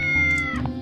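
A cat-bunny creature in the puzzle video game Braid gives one short, tonal meow with a bending pitch, loud and close over a steady game music background.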